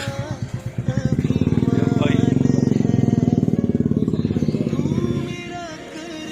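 Motorcycles from a group on an Independence Day ride from Kalasa to Maidadi arrive and idle close by, their engines thumping in a loud, steady rhythm that eases off near the end while people talk over them.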